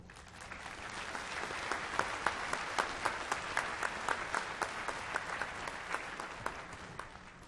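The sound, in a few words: audience applause welcoming speaker Julie Piper at commencement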